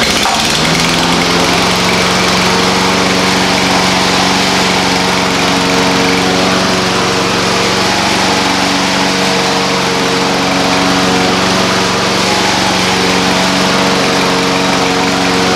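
A self-propelled lawn mower engine runs steadily and loudly up close, a constant droning hum with no pauses, nearly sixteen seconds alone.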